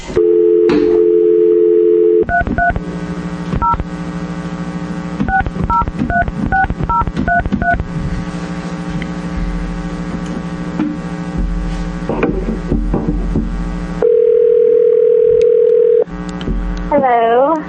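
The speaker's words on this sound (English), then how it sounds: "let's make a test phone call here and see what happens" A phone patch test call begins with a steady dial tone, then a quick run of touch-tone dialing beeps over a loud buzzing hum, later another sustained tone and a sweeping warble at the end.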